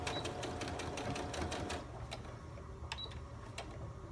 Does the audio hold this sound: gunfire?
no